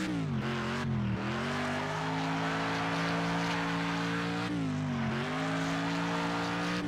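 Car engine in Next Car Game, a racing game with dynamic damage, droning and shifting pitch steadily with dense grinding noise as the car is torn apart in a crash, loud and continuous throughout with no talk.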